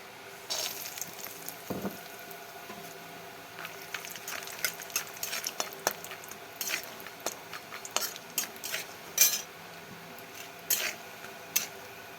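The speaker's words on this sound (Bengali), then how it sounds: "বাদামগুলো একটু লাল করে ভেজে তুলে নেব" Raw peanuts frying in hot oil in a wok: a low, soft sizzle under scattered clicks and scrapes of stirring, irregular throughout and close by, with no talking.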